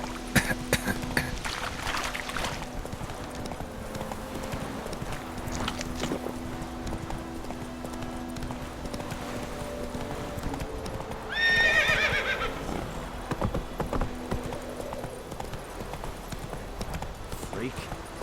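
Roach the horse in the video game The Witcher 3 trots with a steady clip-clop of hooves, then lets out a clear, loud whinny partway through, over soft game ambience.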